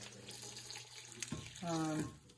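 Hot water runs from a kitchen tap into a pot while an African stew is being cooked, a steady close splash that rises into a ringing, pitched fill for a moment near the end.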